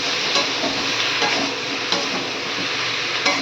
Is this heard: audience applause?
no